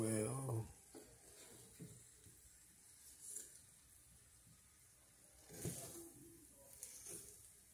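Shrimp curry being stirred in a pan: a quiet, soft sizzle with occasional scraping stirring strokes, louder at the start and again near the end.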